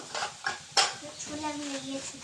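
A small child bangs and clinks plates together in a home kitchen, with a few sharp clatters early on and then softer scraping, while an adult talks over it.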